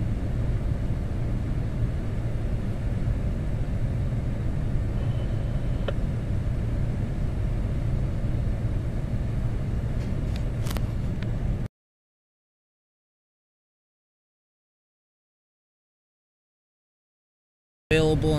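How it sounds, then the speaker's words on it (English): A CSX freight train hauling many tank cars rolls westbound through Pittsfield, Massachusetts, a steady, heavy low rumble with faint metallic squeals that continues, then cuts to silence before briefly resuming. "More tankers than boxcars on this damn train."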